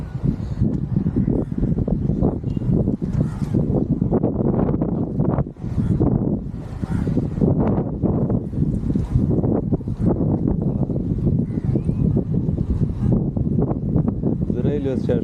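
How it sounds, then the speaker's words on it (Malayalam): Strong wind gusting across an abandoned railway station in a ghost town, a steady loud rush buffeting the microphone with someone talking over it throughout. "നല്ല കാറ്റുണ്ട് കേട്ടോ"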